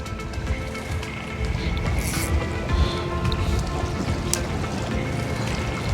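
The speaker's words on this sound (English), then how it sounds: "Bit of wind. I'd say it's a westerly." Wind buffets steadily beside a river in a westerly breeze, a broad rushing noise with faint splashy texture that holds fairly loud and constant throughout.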